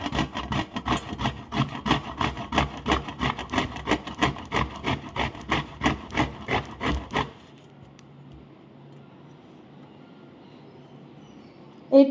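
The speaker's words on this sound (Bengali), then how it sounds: "এই কাঁচা কলাটাকে এখন আমি এর সাহায্যে সুন্দর করে ঘষে নেব" A peeled raw green banana rubbed against a hand grater in steady, rapid rasping strokes, close and loud for about seven seconds, then near silence with a brief knock at the end.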